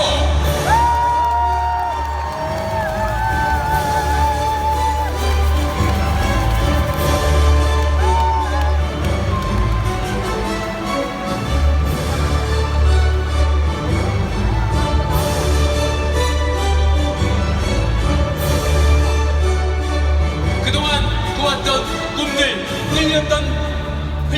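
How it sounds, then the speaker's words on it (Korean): A convention audience at a 2017 Nu Skin recognition ceremony for Nu Team Elite members cheers, whoops and applauds loudly and steadily for the whole stretch, with music playing underneath and occasional shouts rising above the crowd. "우리 뉴팀 엘리트분들을 박수와 함성으로 축하해 주십시오"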